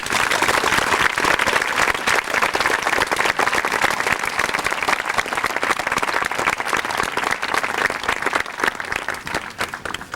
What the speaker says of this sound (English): Turn around, face your parents, and let's give them a nice round of applause